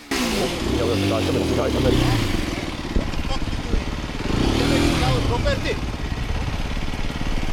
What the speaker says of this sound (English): And now I try to see if my mate's bike can do a burnout.